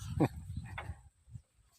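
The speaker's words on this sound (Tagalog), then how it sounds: "Mga aso." A couple of short guard dog barks at a rural farm hut, fairly faint, with a low whimpering sound after them.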